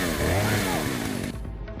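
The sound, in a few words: chainsaw in video game Resident Evil 4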